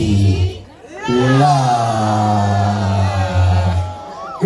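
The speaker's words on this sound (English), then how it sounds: "Give them a round of applause for that." Wedding guests cheer loudly, with sustained whooping and shouting voices near the front and applause mixed into the crowd noise.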